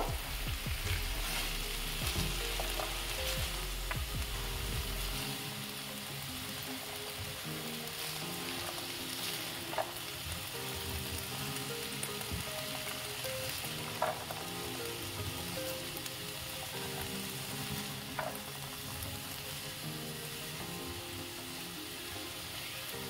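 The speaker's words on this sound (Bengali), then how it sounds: "আবার একটু নেড়ে চেড়ে নেব।" Vegetables for chicken soup stirred in a hot pan give a steady low sizzle with occasional scrapes and clinks of the spoon against the metal, continuous, fairly quiet and close, with no talking.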